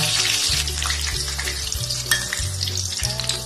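Battered pork sizzles steadily in hot oil over moderate heat, a dense continuous frying crackle with a low bubbling undertone throughout, loud and close with no talking.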